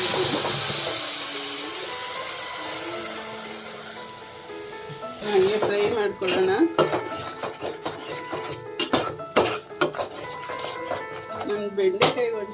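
Ground masala with chilli powder and coriander powder frying in a pan, a steady hiss and sizzle fading over several seconds, then stirring clinks and scrapes of a utensil against the pan.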